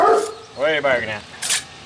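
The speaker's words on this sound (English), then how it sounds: "What are you barking at?" A dog named Butter gives a couple of short, close barks on a stone masonry job site, and someone speaks nearby.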